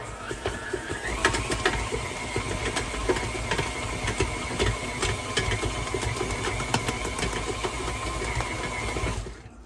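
A stand mixer with a dough hook kneads French bread dough, its motor whirring in a steady, loud, slightly rattling drone that runs unbroken for about nine seconds, then cuts off abruptly.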